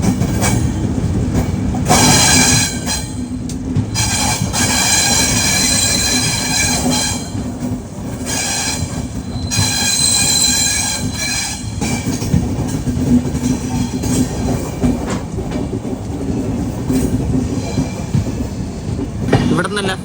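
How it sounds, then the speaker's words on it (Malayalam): Raptisagar Express pulling out of Lucknow, wheels clattering and grinding over the rails with squeals and rhythmic clicks, loud and continuous from inside the moving train, with faint voices mixed in. "നമ്മുടെ രത്തിസാഗർ പുറപ്പെട്ടിരിക്കുകയാണ് ലക്നൌവിൽ നിന്നും"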